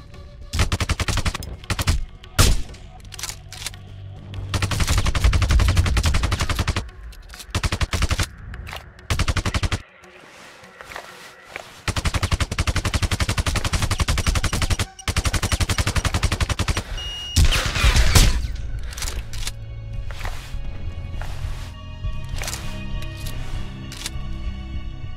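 Rapid machine-gun bursts and single gunshots crackle loudly in the Sniper Ghost Warrior video game during an expert-level mission, arriving in long sustained volleys broken by brief silent pauses.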